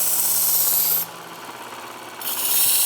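A Work Sharp E5 belt sharpener grinds a kitchen knife edge with a close, raspy abrasive hiss that drops to a softer motor whir for about a second before the harsh grinding resumes.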